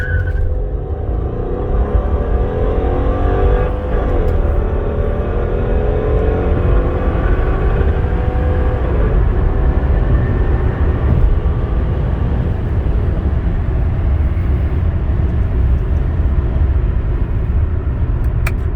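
A 2001 Honda Accord V6 accelerates hard from a standstill, heard from inside the cabin as a loud, steady engine roar with rising pitch sweeps through the gears and a deep road rumble.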